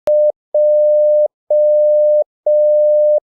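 Morse code letter J sent as a single steady beep tone: one short dot followed by three long dashes, clean and loud with even gaps, no voices.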